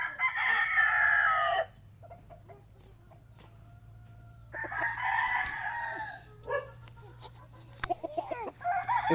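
Rooster crowing in a Filipino gamecock cording area, two long loud crows near the start and middle with a softer one at the end, over a steady low hum and scattered clucks.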